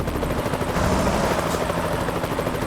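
Continuous loud rotor thudding of a helicopter in American Truck Simulator, steady and close, with a dense mechanical drone and no voices.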